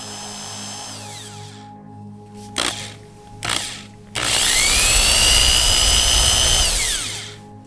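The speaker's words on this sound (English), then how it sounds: "I'm going to drill into the lure now so that the hook and line ties can go in." A small power drill bores into a handmade squarebill crankbait fishing lure, whining up to speed after a couple of brief bursts, then running loud and steady for several seconds before winding down, close by.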